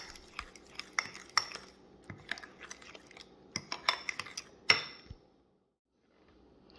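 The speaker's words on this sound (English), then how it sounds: "Mix thoroughly until well combined." Banana oatmeal pancake batter is mixed in a bowl with a utensil, giving a run of close, light clinks and scrapes in an uneven rhythm that stops abruptly near the end, leaving silence.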